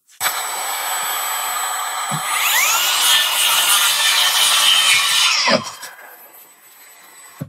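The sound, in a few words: Bosch 18V circular saw cutting a groove, with vacuum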